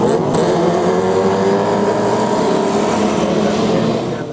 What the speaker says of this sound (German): der Motor röhrt, es gibt nur ein Ziel und das heißt Vollgas.